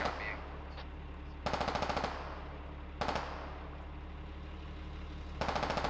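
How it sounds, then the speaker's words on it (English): Incoming gunfire in the military shooter game Squad arrives as three loud bursts of rapid automatic shots, separated by pauses, over a steady low engine rumble. "some shots incoming here"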